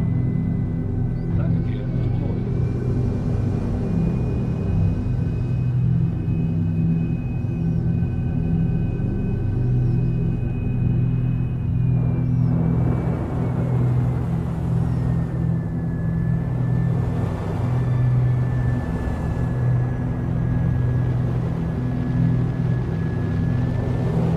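A spaceship in the video game Star Citizen flies low over a planet with a continuous deep engine rumble and a thin whine that slides in pitch partway through, while someone talks over it.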